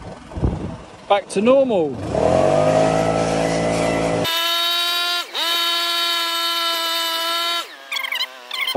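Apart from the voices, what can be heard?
leaf blower clearing up after tree removal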